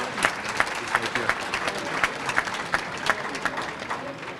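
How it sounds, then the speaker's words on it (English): Banquet audience at a sports hall of fame enshrinement applauding a high school football team, a steady wash of many hands clapping with sharper individual claps standing out throughout. "a great big round of applause for this Spartan squad"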